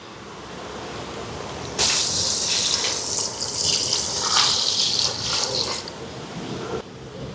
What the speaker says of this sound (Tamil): இனி வந்து தேங்காய் பால் சேர்ப்போம்